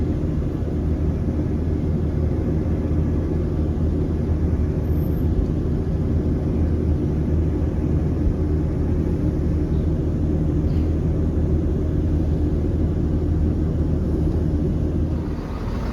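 A ScotRail train arriving at Portlethen station produces a steady, broad rumble and rushing noise that holds constant throughout, loud and continuous with no distinct voices.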